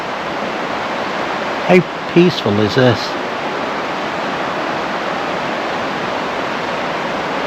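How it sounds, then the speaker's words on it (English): Steady broadband rush of a river flowing over rocks on a Lancashire riverbank, loud and continuous throughout, with someone speaking briefly over it. "So peaceful just listening to the sound of the river hitting the rocks."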